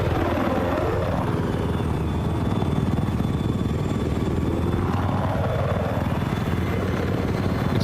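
An attack helicopter flies in a video game, its rotor chop and engine whine loud and continuous with a sweeping, shifting tone, no talking.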